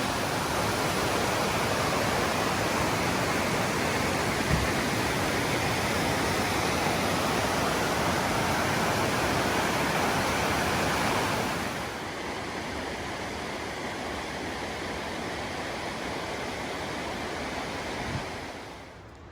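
The Toxaway River flows loudly and steadily, a dense, even rush of water with no pauses that eases slightly partway through and continues alone.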